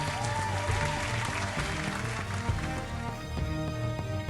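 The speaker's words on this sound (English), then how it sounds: "Now let's give them a big round of applause" Game show audience applauding the team rivals at a comedy combat event, a continuous wash of clapping with music or tonal sound running beneath it at moderate level.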